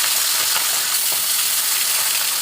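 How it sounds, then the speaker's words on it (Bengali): Boal fish frying in hot oil in a pan: a steady, close, bright sizzle and crackle with small pops, running continuously with no talking. "তেলটা একটা হালকা গরম হলে পরে আমি মাছগুলো এক এক করে ছেড়ে দিচ্ছি"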